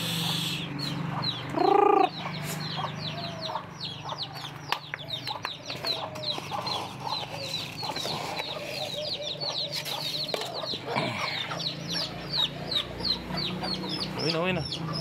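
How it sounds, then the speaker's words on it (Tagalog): Chickens and chicks cluck and peep steadily while pecking for food outdoors, moderately near, with a person speaking briefly in Tagalog and a short louder call partway through. "Yung mga sisiyo ng manok niya, namumulot sila doon sa kabila."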